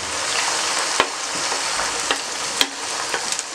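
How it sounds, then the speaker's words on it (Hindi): Peas and carrots fry in hot oil with a steady, close sizzle, punctuated by several sharp clicks and scrapes of a spoon stirring them in the pan. "अब आपने मटर और गाजर डाल देने हैं"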